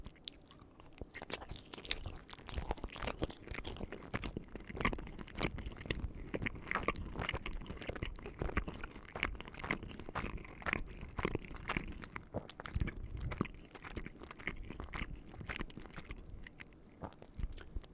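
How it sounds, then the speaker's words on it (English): Close-up chewing of soft microwaved mini pizza bagel bites, a steady run of moist, squishy bites and mastication with occasional light crunches, continuing for about eighteen seconds without talking. "I'm going to try one of the softer microwaved ones here first"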